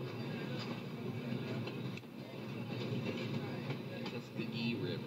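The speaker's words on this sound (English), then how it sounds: "There's the train." A train rumbles steadily along the rails, a continuous low rolling noise with faint metallic clicks and squeals over it.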